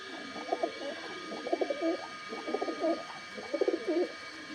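Pigeons coo from a breeding pair whose female is sitting on eggs, in four soft, rolling bursts of throaty calls. The calls sit close over a steady low hiss, with no talking.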